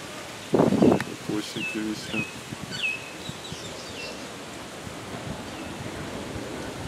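Sea waves on a Caribbean beach make a soft, continuous wash in the background. A brief loud voice comes near the start, and scattered bird chirps sound over the surf.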